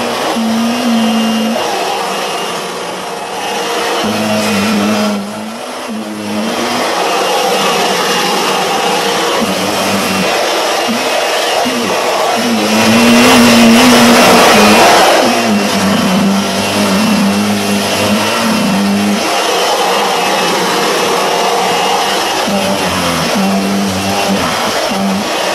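A Kirby Avalir vacuum fitted with a Zip Brush turbo tool roars continuously while cleaning car floor mats, loud and close, its motor pitch dipping briefly and then swelling louder midway.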